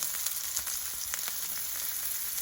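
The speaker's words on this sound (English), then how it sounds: "You guys heard that sizzling sound? That's exactly what you want to hear when you pour the oil in it" Onions sizzle in hot frying oil, a steady close hiss with small crackles and pops scattered through, fairly quiet and without talk.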